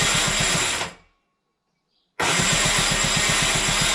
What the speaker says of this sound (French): le démarreur tourne vachement plus libre